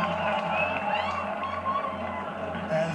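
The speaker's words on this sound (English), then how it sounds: "A cheer from the crowd" A large outdoor crowd in Federation Square, Melbourne, cheers as Black Caviar narrowly wins the Diamond Jubilee Stakes at Royal Ascot, a steady dense roar of many voices heard from a distance and holding throughout.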